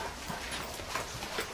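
A dog whimpers faintly indoors in a house, with soft broken whines over a noisy background and no talk.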